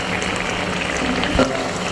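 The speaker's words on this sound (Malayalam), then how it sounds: "ഈ വെളിച്ചെണ്ണ ഒന്ന് ഒഴിച്ചു കൊടുക്കുക" Coconut oil poured over a simmering fish curry, giving a steady, close frying sizzle and bubbling throughout with a brief louder spurt near the end.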